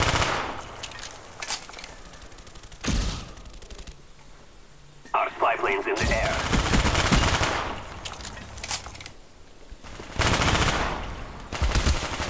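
Automatic and single-shot gunfire from Call of Duty: Black Ops free-for-all play on the Stadium map crackles in sharp bursts, some rapid and loud, others farther off, with a player talking over the action.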